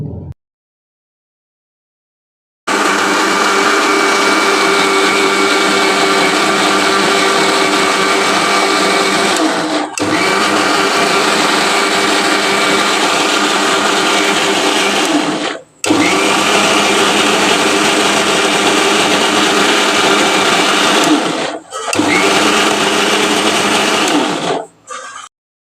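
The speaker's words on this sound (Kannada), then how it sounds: "ಮತ್ತು ಉದ್ದಿನಬೇಳೆ ಕೂಡ ಮಿಕ್ಸಿ ಜಾರ್ಗೆ ಹಾಕ್ಕೊಂಡ್ಬಿಡ್ತೀನಿ." A mixie grinder churns soaked urad dal into fine idli batter, a loud steady whirring drone that runs in long bursts, stopping briefly three times between runs.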